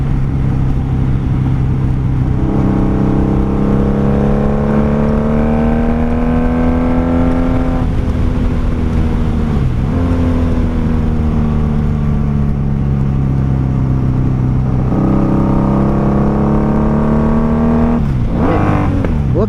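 A 1995 Honda Magna VF750C motorcycle engine ridden at speed, revving up through gears in repeated rising pulls with brief dips at each shift, loud and close throughout.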